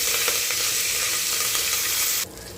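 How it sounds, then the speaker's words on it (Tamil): Curry leaves frying in hot oil for a tempering, a loud, close, continuous crackling sizzle that cuts off abruptly near the end. "நல்லா கருவேப்பிலை பொரிஞ்சிருச்சு."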